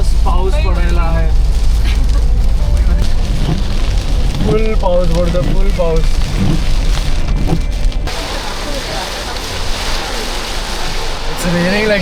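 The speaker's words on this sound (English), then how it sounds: "It's raining like crazy." Heavy rain pours steadily throughout a trail race, a dense broadband hiss on the ground and surroundings, loud and continuous, with people talking over it in the foreground.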